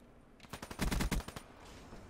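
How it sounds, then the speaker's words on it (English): Rapid automatic gunfire from a gun in a first-person shooter video game, a short, fairly quiet burst of about a dozen shots that swells and then fades out. "Even the sound of this gun."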